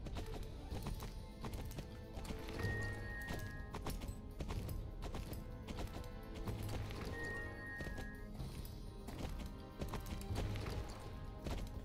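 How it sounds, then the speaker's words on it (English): Horse galloping in the Star Stable video game: a rapid, continuous clip-clop of hooves, moderately loud and steady over several seconds, with faint game sounds in the background. "Good horse."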